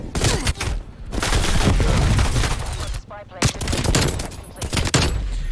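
Gunfire in a shooter video game: loud, dense bursts of rapid shots filling most of the stretch, broken by short pauses, with a few heavier single blasts near the end.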